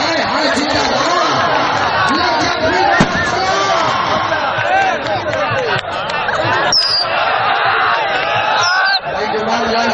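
A large outdoor crowd at a kabaddi match in Basirpur, Okara, roars and claps continuously at high volume, with dense overlapping voices and cheering throughout.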